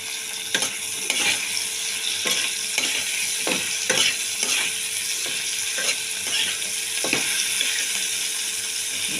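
Chillies and tomato fry in a pan for a mustard drumstick curry, with a continuous sizzle under repeated scraping strokes of a spatula, each stroke clear and close at a steady, unhurried pace.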